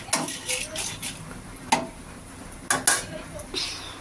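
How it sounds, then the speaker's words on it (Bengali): Dried chilies are stirred in hot oil in a pan for mango chutney, with a soft sizzle under repeated scraping and a few sharp utensil knocks against the pan, close by. "শুকনো মরিচ তেলের উপরে ভেজে নিচ্ছি"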